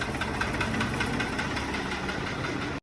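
A tractor's diesel engine idles nearby with a steady low chugging rumble, cutting off sharply at the very end.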